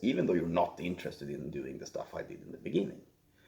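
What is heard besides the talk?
No everyday noises stand out.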